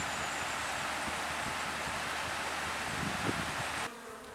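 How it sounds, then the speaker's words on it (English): Steady dense insect buzzing from bees in a bee yard on a natural farm in Ōmishima, Ehime, Japan, a continuous close swarm hum that drops slightly quieter near the end. "This is bee yard number 1."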